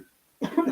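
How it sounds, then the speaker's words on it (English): A single close cough bursts out abruptly after a moment of near silence, short and throaty with a rough, breathy tail. "Let's not cough openly on the board."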